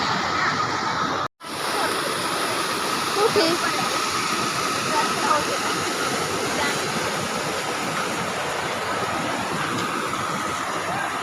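Jamadeipenta waterfall roars with a steady, dense rush of falling water close by, a brief drop out near the start, and voices talking faintly beneath the noise.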